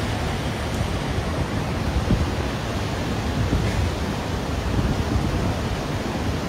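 The flooded Little Pigeon River in Pigeon Forge, Tennessee, swollen after heavy rain, gives off a steady, dense broadband roar of rushing water, loud and unbroken throughout.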